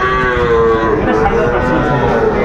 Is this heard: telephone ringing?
no